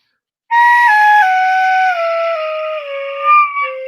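A slide whistle plays a single long note that glides steadily downward over several seconds, loud and clear with no talking over it, ending in a brief wobble.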